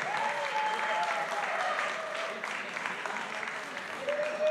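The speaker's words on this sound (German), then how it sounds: "ihr dürft gerne mal einen Applaus machen für unsere Girls" Sustained applause from a boxing event audience, saluting the ring girls before a professional fight, a steady wash of clapping with a tone from the arena and faint voices underneath.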